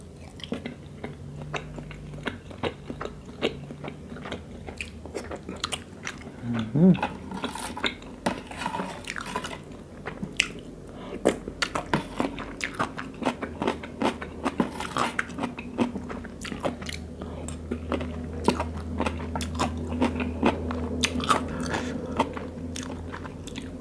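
Close-up chewing and biting on a spicy cockle salad with salted egg yolk, heard as steady wet, crunchy mouth sounds with soft clicks throughout and no talking.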